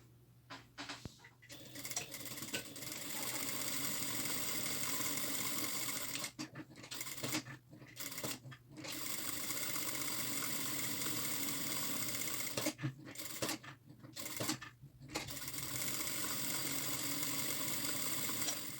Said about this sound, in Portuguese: eu passo uma costura de 1 centímetro em toda a borda